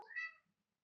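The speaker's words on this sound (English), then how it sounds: "That's my cat." A pet cat gives a single short, clear meow close by, fading quickly into silence.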